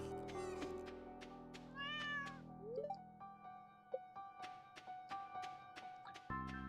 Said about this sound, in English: Cat, I'm trying to pet you.